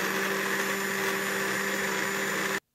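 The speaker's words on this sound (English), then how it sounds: "I want to make it frothy, so I'm using hand mixer" An electric hand mixer froths a rum-based mocha drink, a loud continuous whine with a steady pitch that runs for over two seconds and cuts off abruptly.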